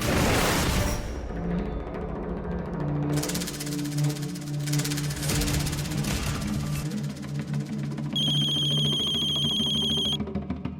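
Telephone ringing after a call is placed, a bright electronic ring tone sounding briefly late in the clip over louder dramatic background music and booming effects.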